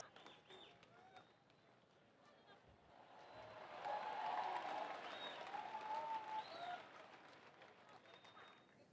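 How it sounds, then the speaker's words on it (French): Faint, distant applause from a church congregation, rising midway to a fuller round of clapping with voices mixed in, then tapering off while someone speaks. "Alléluia, applaudissons pour Jésus-Christ."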